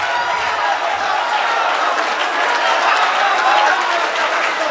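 A large audience claps at an all-India mushaira, a poetry gathering, in dense, sustained applause that stays loud and even from start to finish, with crowd noise blended in.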